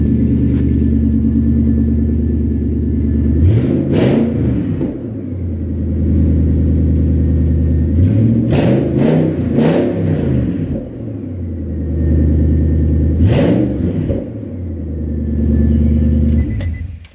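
A loud Nissan Titan truck engine with a cheap aftermarket exhaust idles with a deep rumble, then revs hard three times through the exhaust, each burst swelling and falling back to a throbbing idle.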